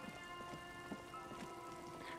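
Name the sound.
rain falling in the video game Disco Elysium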